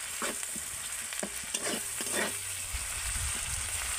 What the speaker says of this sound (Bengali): রসুনটাকেও একই মতো ভেজে নেব।